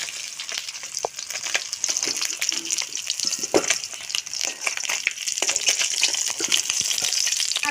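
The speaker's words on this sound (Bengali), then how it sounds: "মাছ ভাজা হয়ে গেছে, তুলে নেব।" Pieces of rohu fish fry in hot oil with a dense, crackling sizzle full of sharp pops and spatters, loud and close throughout with no talking.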